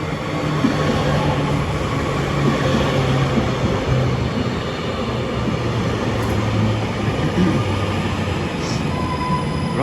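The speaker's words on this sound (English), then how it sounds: "here's our train, 8:51 to Oxford Road" Commuter train at a Manchester station, the 8:51 service to Oxford Road, rumbling steadily with a low engine drone and faint wheel squeal throughout, loud and close with no talking.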